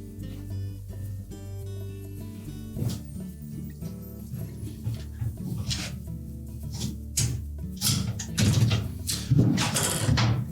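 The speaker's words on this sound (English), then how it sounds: "Slide the whole assembly down through the opening on top of that rail. Make sure it locks in place." A Whirlpool dishwasher rack assembly slides along its rail and snaps into place, giving a run of close plastic-and-metal clicks, scrapes and rattles that grow louder toward the end, with no voices.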